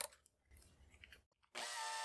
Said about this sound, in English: To round off one end, I'll chuck it in a drill